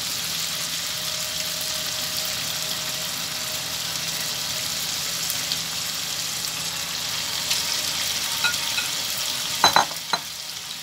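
Chicken fajita pieces fry in a pan with a steady, even sizzle throughout, close and moderately loud, with a few small pops and clinks near the end and no talking.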